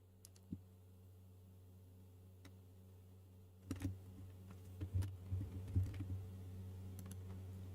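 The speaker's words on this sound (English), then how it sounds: "Typing their username." Someone types a username on a computer keyboard, producing a quiet cluster of uneven key clicks after a few isolated taps, close by over a low steady hum.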